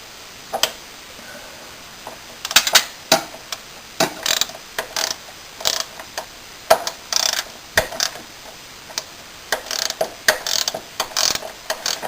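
A socket ratchet tightens a bolt on a snowblower that won't move, giving loud close clicking strokes in irregular bursts, each stroke a rapid run of pawl ticks followed by a short pause.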